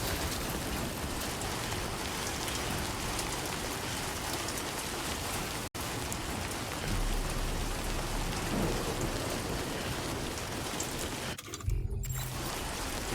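Steady, dense rain with rolling thunder from Timefall in the video game Death Stranding 2, a loud continuous downpour that drops out briefly twice, once with a sharp cut near the end.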